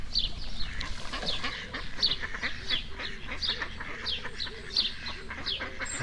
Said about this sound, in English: Ducks are out in force today.